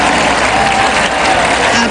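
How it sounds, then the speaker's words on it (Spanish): A crowd breaks into loud, steady applause with scattered cheers, a dense continuous clapping that fills the whole short moment. "Aplauso"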